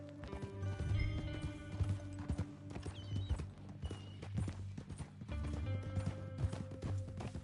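Horse hooves clip-clopping in an uneven rhythm with a whinny, close and fairly loud over a music score in a western-themed video game.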